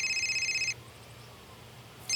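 A telephone rings in a Hindi TV serial scene with a bright electronic tone that sounds, pauses briefly, then starts ringing again.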